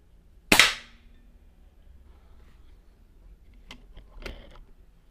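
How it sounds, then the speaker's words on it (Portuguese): A Boito Urutu 5.5mm air rifle fires a single 21-grain slug at a 10 m target: one sharp, loud crack near the start, followed by a few faint clicks and light knocks in a quiet setting. "Eu vou dar o primeiro tiro aqui só para marcar lá."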